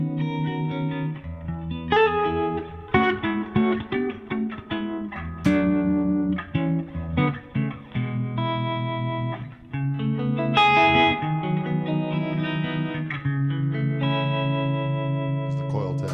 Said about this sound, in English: That's just with the harmonic. Here's the reverb on that.